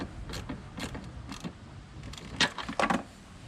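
A ratchet wrench runs down the catch can bolts on a 2011-2014 Ford F-150. Several short bursts of close mechanical clicking and creaking come in uneven spurts.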